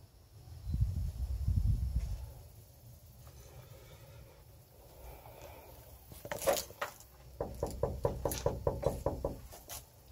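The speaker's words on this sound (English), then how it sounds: "that was me knocking" Knocking on a wall at the ruins of Concho Indian Boarding School: a burst of rapid, sharp knocks late in the clip, fairly close, over wind rumble and some low thumps.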